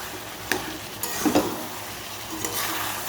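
Taro greens and a fish head being stir-fried together in a pan give a soft background sizzle broken by a few sharp scrapes and clinks of a spatula against the metal, with no talking.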